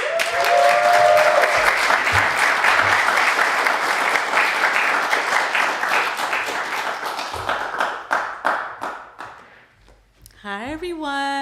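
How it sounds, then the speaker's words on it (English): An audience at a poetry event applauds a poet, dense clapping that fades out over several seconds before a voice begins speaking. "if you can give a round of applause"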